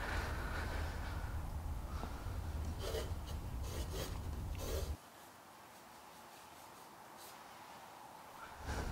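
Graphite pencil scratches and rubs steadily across drawing paper while sketching a plaster Medici bust, a dense close rasping that drops to a much quieter, sparser stroke halfway through.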